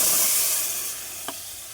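Water poured into a pan of frying potatoes and cauliflower hisses and sizzles loudly at first, then settles into a softer steady hiss, with a brief clink near the end.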